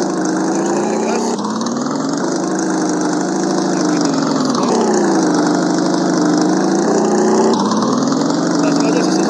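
Steady motorcycle engine drone from the Moto Racer 3D racing game, loud and continuous with pitch rising and falling through several throttle surges, a voice talking over it.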